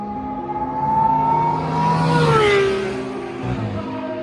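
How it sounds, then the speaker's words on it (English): A powerful Aston Martin V12 engine revs hard with a rising, sweeping whine that peaks mid-way and then falls, like a car speeding past, loud and close with no voices. "the thunderous roar of their V12 engines"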